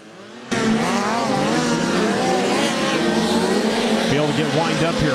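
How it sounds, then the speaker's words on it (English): Sprint cars roaring around a dirt track during a hot lap session, a loud sustained engine howl with shifting pitch that starts abruptly and fills the whole moment, announcer-style commentary present. "Get wind up here for Dirt Drive Hot Lap session number 4."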